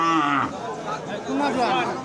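A cow at a cattle market lows in two loud, close moos separated by a short pause, with faint crowd chatter in the background.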